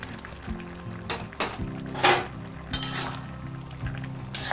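Fried eggplant slides into a simmering vegetable curry of tender greens stalks, potato and lentil dumplings in a pan, with soft clinks of a spoon and a few brief scraping stirs over a low bubbling background.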